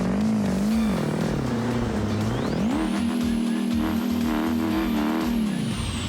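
A red D-Series pickup truck in BeamNG does a burnout, its engine revving hard and climbing in pitch over a loud constant roar, with high tire squeal joining partway through.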